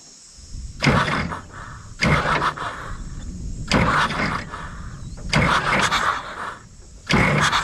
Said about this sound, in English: I'm just gonna hit the key a couple of times really briefly and just see what we can do with turning the motor over by the starter